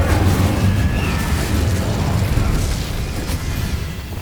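The Incendio fire spell cast in Hogwarts Legacy erupts as a loud, roaring burst of flame with a booming rush that holds steady for a few seconds before easing slightly, with no speech.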